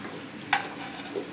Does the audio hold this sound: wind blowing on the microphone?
no